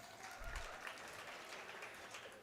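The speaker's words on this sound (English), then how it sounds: "Give them a round of applause again." An audience at a dinner event claps in steady, fairly faint applause that carries on without a break, with no voices over it.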